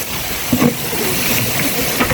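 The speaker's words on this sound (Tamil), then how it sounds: "நல்லா நெய்லையும் எண்ணெயிலையும் சேர்த்து 3யும் வதங்க விடணும்" Ingredients frying in a mix of ghee and oil for a large batch of dum biryani give off a steady, dense sizzle throughout, close and fairly loud, with a couple of brief stirring knocks and no talking.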